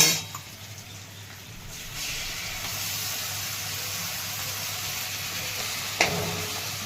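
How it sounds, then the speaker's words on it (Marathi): Onion, tomato and ginger paste sizzles steadily in hot oil while being sautéed for rajma masala, a continuous close frying hiss with a brief stir clatter near the end. "छान अशी परतून घ्यायची तेलामध्ये, चांगले तेल सुटेपर्यंत परतून घ्यायची छान अशी."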